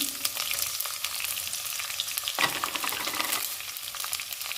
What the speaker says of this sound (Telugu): కరివేపాకు, ఇవన్నీ ఆయిల్లో వేయించుకున్నాము.